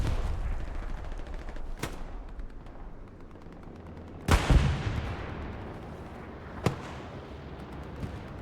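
Gunfire and rocket blasts in a multiplayer shooter scrim on the map Foy: a rumbling battlefield bed broken by three sharp explosive cracks, the loudest and most booming near the middle, with no talking.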